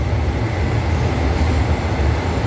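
A GEK 4040 diesel locomotive hauling a freight train roars loudly and steadily up close, a deep rumbling engine drone with rattling noise throughout and no speech.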